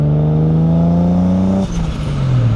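A widebody single-turbo Toyota Supra engine drones steadily at high revs, loud and close, then the note drops as boost is released with a turbo whoosh and whistle before the engine settles into a lower hum.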